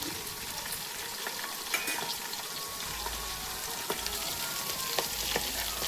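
Green and dried red chillies frying in hot oil, a dense, steady close-up sizzle with occasional sharper pops and light stirring, no talking.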